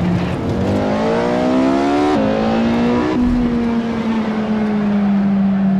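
A Porsche 918 engine screams at high speed in a racing video game, a loud sustained whine climbing through the revs with a couple of quick gear shifts, steady and close throughout without any talk.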